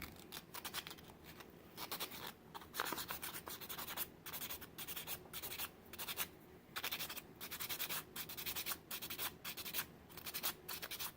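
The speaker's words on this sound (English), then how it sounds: "These have been given a good sanding." Steady rasping scrape of small pieces of sandpaper rubbed by hand on wooden rings, continuous back-and-forth strokes with brief gaps, close and fairly loud, no talking.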